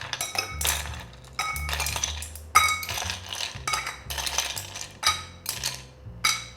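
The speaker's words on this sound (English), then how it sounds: "We'll go ahead and drop in our ice." Ice tumbles into a cocktail mixing glass in several clinking drops, bright rattling bursts close by with short pauses between them and no talking.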